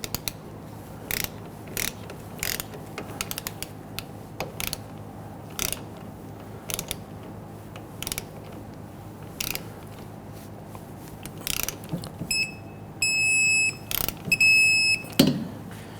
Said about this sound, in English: Let's torque down our caliper to bracket bolts to 20 foot-pounds.